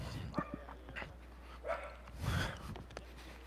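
A small dog barks and yips at a bigger dog outdoors, several sharp, fairly faint barks scattered over a low background hum.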